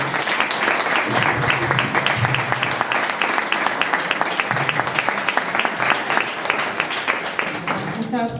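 An audience applauds a guest speaker at an event on people persecuted under Franco and LGBTIQA+ pride, a loud sustained patter of many hands with clear individual claps, continuing steadily to the end.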